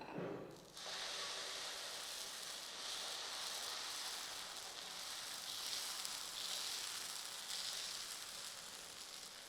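Dosa batter spread thin on a hot, oiled griddle over low gas, hissing in a steady, soft sizzle that starts abruptly and holds evenly, with no voices.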